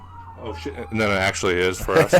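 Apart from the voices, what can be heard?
emergency vehicle sirens outside a house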